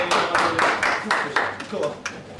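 Applause from a crowd at a LAN party, a run of broadband clapping bursts that swells and fades over a couple of seconds, with voices mixed in.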